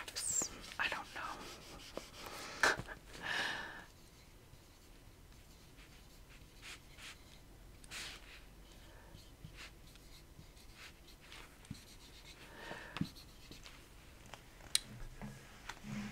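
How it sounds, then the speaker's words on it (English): A whiteboard marker writes capital letters on a whiteboard in a quiet setting, giving soft squeaky strokes and scratches. Faint whispered speech runs through the scene. "Why am I writing in caps?"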